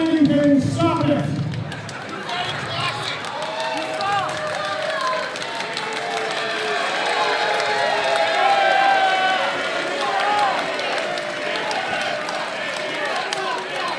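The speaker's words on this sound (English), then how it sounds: "The fans here tonight with a mixed review for Aaron Stevens. Hearing some boos, but some applause." Wrestling crowd at a GLCW Blizzard Brawl 2023 event reacting with a mix of boos and applause, a steady roar of voices and clapping filling the room while a commentator talks over it.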